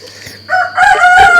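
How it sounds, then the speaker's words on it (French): A rooster crows once, loud and close, at a campsite garden in Bulgaria, the call rising after a brief quieter cluck. "Voilà, avec le coq"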